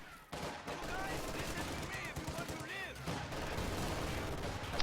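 Grenadiers trading fire with riflemen at range in a wartime strategy game, rapid crackling bursts of gunshots and rattling volleys, dense and continuous, under a voice talking over the action.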